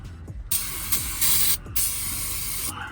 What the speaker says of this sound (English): Go ahead and spray this off with some brake clean.